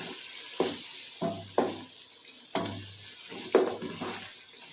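Meat with turmeric and spice powder is stirred in a hot pan, sizzling steadily while a spoon scrapes through in four or five distinct, close strokes.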